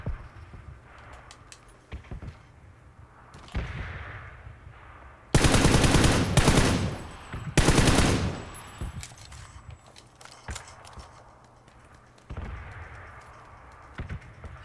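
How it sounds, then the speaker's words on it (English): Gunfire in PUBG on PS4: scattered distant shots, then two loud bursts of rapid automatic fire at close range, fading back to faint intermittent shots and ambient game noise. "He was shooting someone."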